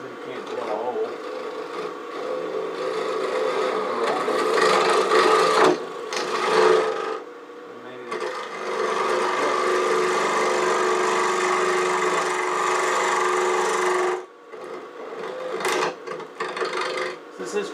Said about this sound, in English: Now we're going to hollow it out. I'm going to use the spindle gouge for that.